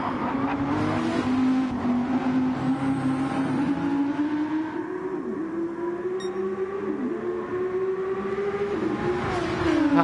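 Audi R8 and Porsche GT race cars at the Nürburgring 24-hour race, a loud sustained engine drone with rising and falling pitch as they accelerate and shift, one car close and continuous with others passing.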